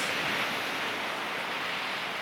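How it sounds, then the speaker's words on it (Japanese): Steady roar of ocean surf on the Abel Tasman Coast Track in New Zealand, heard from inside a tent at night, a continuous broadband wash without distinct breaks and no one speaking. "風の音じゃない、波の音か。"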